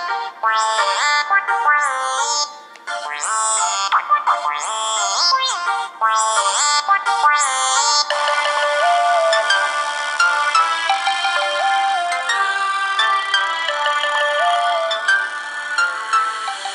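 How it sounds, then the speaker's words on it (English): Tinny music playing from a Samsung Galaxy S4 phone speaker, thin and bright with no bass, continuous throughout. "I'm gonna play a video that has music in the background"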